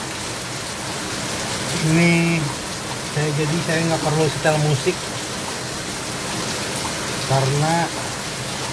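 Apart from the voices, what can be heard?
rain falling at night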